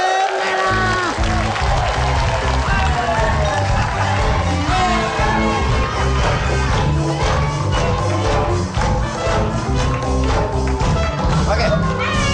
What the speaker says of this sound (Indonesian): Tepuk tangan untuk tim merah.